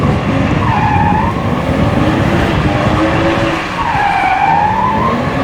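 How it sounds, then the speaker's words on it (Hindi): A car skids and squeals its tires while drifting on a track, with loud sustained rubber screeching that rises and falls over the engine noise, close and continuous. "ओह, स्लिप कर रही है गाड़ी"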